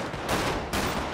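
NPC gunfire in a GTA V roleplay session, a dense burst of rapid shots filling the short moment with steady, loud crackle and no talk.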